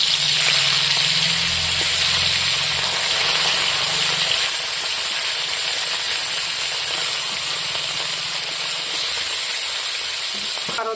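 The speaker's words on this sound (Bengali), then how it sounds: "তেল গরম হয়ে গেছে, এখন আমি মাছগুলো ভাজি নেব। তেলের মধ্যে দিয়ে দিলাম।" Fish dropped into hot oil in a Bengali home kitchen sizzle and hiss loudly and steadily, a continuous bright frying crackle lasting the whole stretch, with a faint low clatter early on and no talking.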